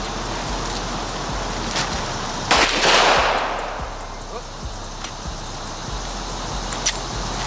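A single loud Glock pistol shot fired outdoors in a neighborhood, a sharp crack with a brief ringing tail, standing out against steady background noise and faint distant sounds.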